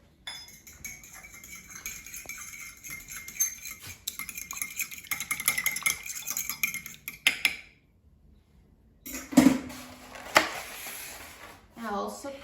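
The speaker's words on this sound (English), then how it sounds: "And I'll whisk it." An egg is whisked in a bowl with a fork, a run of quick, light metallic clinks and taps against the side of the bowl, close by and fairly faint.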